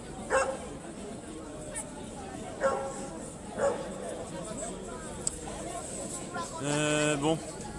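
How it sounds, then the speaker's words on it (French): A lone dog barks and yips a few times at a moderate distance outdoors amid a crowd's babble at a street protest, with one longer whining bark near the end. "c'est un chien tout seul"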